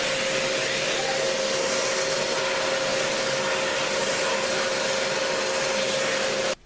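A vacuum cleaner runs from a Hyundai HPS 1100 W portable power station, drawing around 680 watts. It makes a loud, steady close-up whine with a constant tonal hum and cuts off abruptly at the end.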